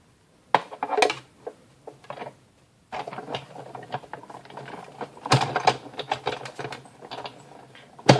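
A die cutter machine feeding card through circle dies, with irregular close clicks, rattles and mechanical clatter in bursts, a brief pause, then denser clicking and grinding toward the end.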